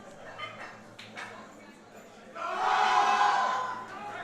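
Crowd at a high school powerlifting nationals meet swells into a sustained cheer for a lifter, rising from quieter murmuring to a loud roar that holds for over a second before easing.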